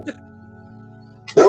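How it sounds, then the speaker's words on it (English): Dogs bark at home, a short distant yip near the start and then a loud, close bark burst at the end, over a steady low hum. "Just ignore my dogs."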